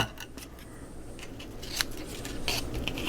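Scissors snipping excess paper off a handmade mini album page, a few crisp close cuts with light paper rustling between them, no talking.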